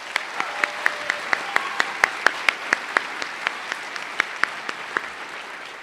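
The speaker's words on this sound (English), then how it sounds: "Let's give them a round of applause." Audience at a high school graduation ceremony applauds, a broad steady clapping wash punctuated by regular, sharper claps standing out near the microphone in a brisk rhythm.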